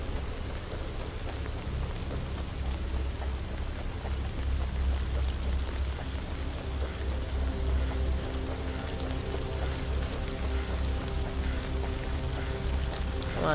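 A steady downpour in The Land of Pain video game hisses continuously, with a deep low rumble like distant thunder underneath and no talking.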